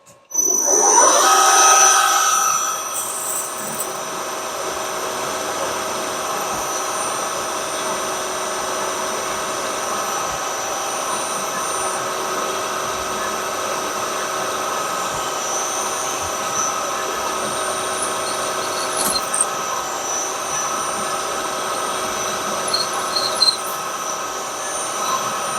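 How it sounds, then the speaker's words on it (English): A 3mm drill bores a deep hole in a piston rod gland part, opening with a loud burst, then a steady high whine with sustained tones and small intermittent ticks as it works through the metal. "Now it's quite a deep hole for a 3mm drill, so I'm just going to peck at it"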